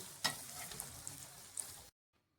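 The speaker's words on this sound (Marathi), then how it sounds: "वाटण केलेलं आहे ते थोडंसं परतून घेते। त्यामध्ये वांगी टाकून घेते।" Brinjals going into a tempering of cumin, mustard seeds and ground masala paste sizzle briefly up close, with a sharp crackle at the start and a few pops before the sound cuts off abruptly.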